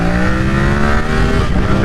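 A 2023 Yamaha R7 motorcycle revs hard under full acceleration, its engine note loud, close and steady with strong harmonics throughout, no voices over it.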